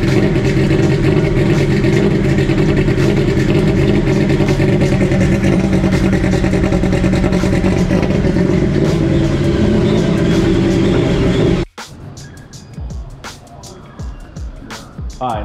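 A rowdy personal watercraft engine (a 300, supercharged, with a damaged flywheel and supercharger gear) runs loud and rough with dense clatter for about twelve seconds, then cuts off abruptly, leaving quieter shop background.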